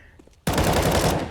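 Rapid burst of gunfire from a Counter-Strike: Global Offensive esports semi-final match, a sudden loud rattling volley after a brief quiet moment, close and dense.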